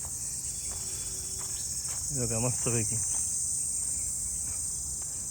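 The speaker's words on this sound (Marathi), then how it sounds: "तुम्हाला रात किड्यांसारखा तो असं किडे असतात त्यांचा आवाज येत असेल." Crickets chirp steadily near a river in a scenic natural spot in Panvel, a dense continuous insect trill running through the whole stretch while someone speaks briefly over it in the middle.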